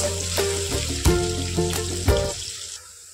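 Onions and green chillies frying and sizzling in a pan for aloo fry, stirred with a few clear scrapes and knocks of a spoon against the pan over a steady hiss, then the sizzle fades near the end.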